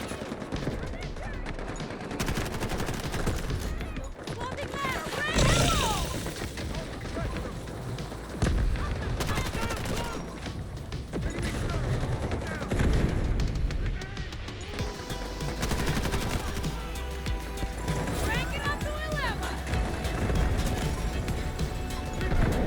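Bursts of SMG gunfire in the shooter game Delta Force, repeated rapid volleys over a dense battlefield din of explosions and effects, with a person talking at times.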